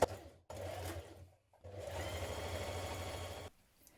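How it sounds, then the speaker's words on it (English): A sewing machine stitches the centre back seam of a coat in two steady runs of whirring motor and needle chatter, broken by a short pause, close and moderately quiet. "you're going to sew the centre back seam down to the vent with a 1 centimetre seam"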